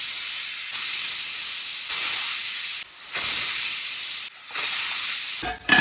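Steady loud hissing of a pressure cooker cooking mutton, a continuous broad steam rush that cuts out briefly a few times before resuming, heard alone with no voices.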